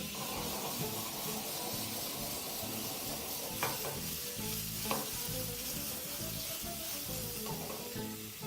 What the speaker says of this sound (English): you can actually hear the sizzle of the juices